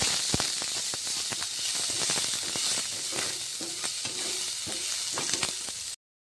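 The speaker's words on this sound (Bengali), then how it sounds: "পেঁয়াজটা লাল লাল করে ভাজা হয়ে গেল" Chopped onions sizzle steadily in hot oil in a pan, with repeated sharp scraping clicks from the stirring utensil scattered over the soft, continuous frying hiss.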